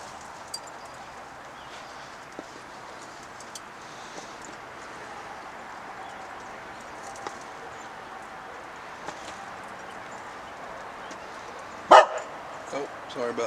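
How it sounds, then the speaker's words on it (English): A little dog barks a few sharp times near the end, close and loud over a quiet outdoor background beside a grill where chicken wings are being smoked. "It's a little dog."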